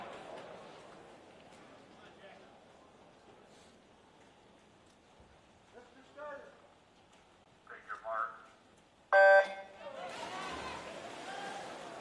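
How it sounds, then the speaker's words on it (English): Start beep at a high school boys' state swimming final, a brief loud electronic tone cutting through steady crowd chatter and echoing natatorium noise, followed by a burst of cheering. "Quick with the beep there."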